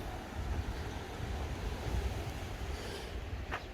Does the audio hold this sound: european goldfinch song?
no